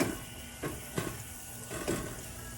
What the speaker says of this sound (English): we have our onions going there